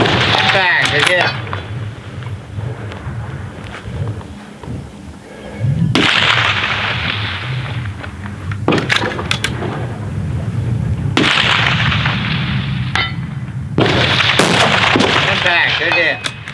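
Rifle shots ring out at an outdoor precision shooting match, about five loud sharp cracks spaced several seconds apart, each followed by a rolling echo, with someone talking quietly between them.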